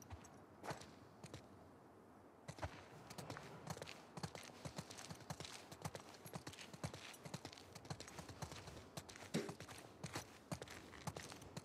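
Horse hooves clip-clop in a steady walking rhythm in the video game The Last of Us Part II, sharp and fairly close, continuing throughout with no voices.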